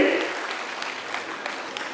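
Applause from an audience welcoming the district president at an Agrawal community honour ceremony, a steady wash of clapping that starts strongest and stays even through the two seconds with no talk over it.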